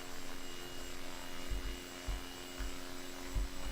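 A light aircraft engine in the SimplePlanes video game runs at half throttle for takeoff, a steady droning hum with a low rumble that swells briefly a few times, heard alone at moderate level.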